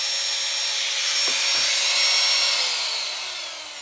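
A rewound DC 755 motor, wound with 11 turns of 0.8 mm copper, spins at about 32,700 rpm, giving a loud steady high whine that holds evenly and then starts to tail off near the end.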